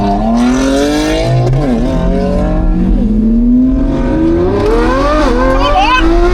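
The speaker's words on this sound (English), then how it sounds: "This Lamborghini Revuelto is fun, guys." A Lamborghini Revuelto engine revs hard while driving, its pitch climbing and dropping through repeated loud, close sweeps as the car accelerates and shifts.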